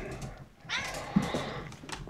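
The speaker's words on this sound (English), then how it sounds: "Don't mind the music of my cat and puppy playing in the background there" A cat and a puppy play together indoors in the background, with several short, close meows and yowls rising and falling over a couple of seconds.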